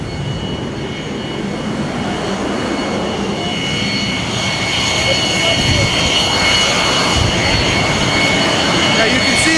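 An F/A-18 Super Hornet jet on the deck of the aircraft carrier USS Nimitz gives a steady, loud engine roar and hiss that swells slightly, with someone talking over it.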